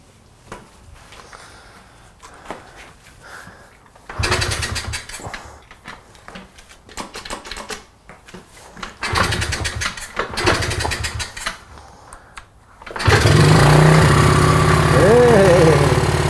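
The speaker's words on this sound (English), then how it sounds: "Now the joys of starting a dirt bike." A Honda CRF50 dirt bike, not run for some time, is cranked in attempts that sputter briefly before the small engine catches and runs loudly near the end, with people talking.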